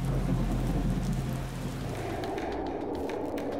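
Heavy rain pours continuously in Ziro, Arunachal Pradesh, with a deep rolling thunder rumble in the first half that fades as the dense, hissing downpour carries on.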